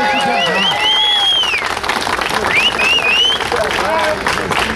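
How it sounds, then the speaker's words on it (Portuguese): Crowd applause at a Brasil Fight 2 weigh-in event in Praça Savassi, Belo Horizonte, steady and loud throughout, with an announcer's voice and shouts carried over the clapping. "vamos receber calorosamente uma salva de palmas"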